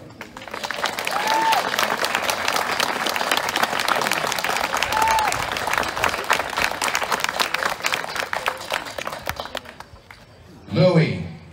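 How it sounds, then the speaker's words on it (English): A crowd at the National Hobo Convention in Britt, Iowa claps steadily and loudly to vote for the hobo king, with a couple of faint whistles inside the applause, before it stops and a voice speaks. "we get to applaud to vote."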